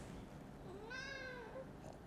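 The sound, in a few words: cat meowing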